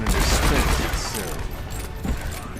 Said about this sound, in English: Here I'm just shooting some boxes and stuff to target practice, just waiting for the game to start.